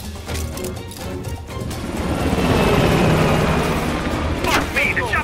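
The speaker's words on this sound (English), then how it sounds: "The chopper got away!" A helicopter pulls away in the Call of Duty Black Ops Cold War campaign, its rotor roar swelling to a heavy rumbling peak and then fading slightly amid gunfire crackle and sharp impacts.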